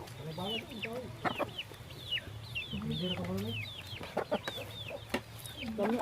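Chickens clucking and squawking nearby, a busy overlapping flock with repeated short calls and a few sharper cries over a low background hum, with voices faintly talking in the mix.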